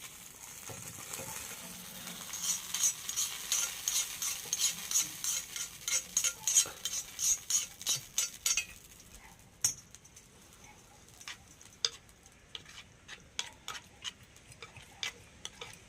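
A hot mustard-seed tempering being stirred into a banana stem dish, with quick rhythmic ticking and scraping strokes against the pan over a light crackle at first, then sparser single clicks, close by with no voices.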